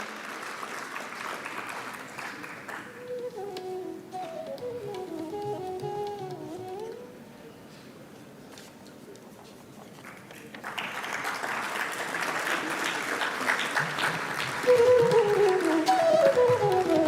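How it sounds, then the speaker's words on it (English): Applause from a conference audience at an entrepreneurship conclave fills the room as a session ends, a dense sustained clatter of clapping that fades briefly, then swells again under background music. "A huge round of applause, ladies and gentlemen, for that amazing session by Mr. Vinayak Pai."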